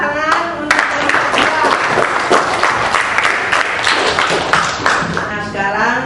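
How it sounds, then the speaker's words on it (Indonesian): A classroom of students claps for a student group during a cooperative lesson; loud, continuous, dense clapping runs throughout with some voices mixed in. "tepuk tangan untuk kelompok"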